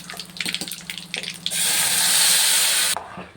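Stirring and light sizzling in a pan of fish curry, then a steady rush of water poured in for about a second and a half before it stops abruptly.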